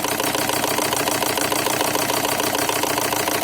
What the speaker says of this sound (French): Donc vous entendez un moteur au ralenti, très calme